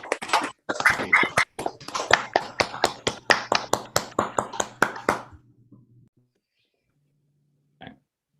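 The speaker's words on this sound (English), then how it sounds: "give these award winners a big round of applause" A small group of people at an online chemistry convocation claps for award winners over unmuted microphones, a run of sharp separate claps that thins and stops, followed by quiet and one faint late tap.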